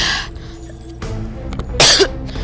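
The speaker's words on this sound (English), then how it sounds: "Sorry about the cough." A single harsh cough close to the microphone, with a brief throat sound before it and quiet breathing and background noise around it.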